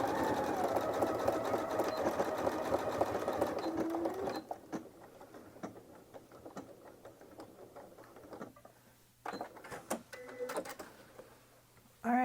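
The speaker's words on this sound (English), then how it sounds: "I'm going to back stitch several times here just to make sure that this is nice and locked in place." Sewing machine back stitching several times to lock the seam on a jelly roll rug, a steady loud mechanical whir for about four seconds, then scattered clicks and short bursts as the stitching stops and starts.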